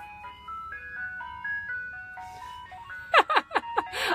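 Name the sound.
ice cream truck driving down a suburban street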